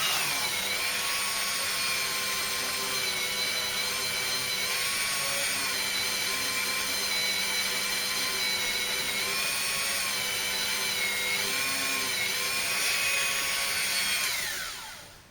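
A rotary tool spins a polishing mop against the glass of a touch-screen phone, giving a continuous high-pitched whine with slight pitch wavers, close and steady, winding down at the end.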